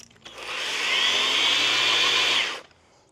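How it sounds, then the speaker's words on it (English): A right angle die grinder fitted with a small cutting disc whines in one sustained, loud burst of about two and a half seconds, spinning up and cutting off abruptly. "I'm gonna call the right angle die grinder with the disc on it a success."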